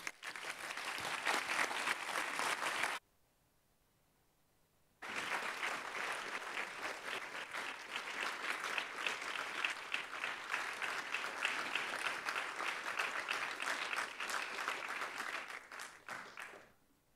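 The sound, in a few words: audience applause at end of conference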